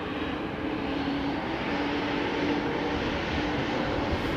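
A Boeing 777 taking off at London Heathrow Airport, heard as a steady, unbroken engine roar that holds at an even level throughout, with no talk.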